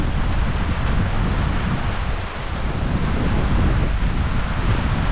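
Heavy rain and strong wind at an old, dilapidated open pavilion with leaning, broken posts, a loud continuous roar and rush of gusts buffeting close by, with no speech.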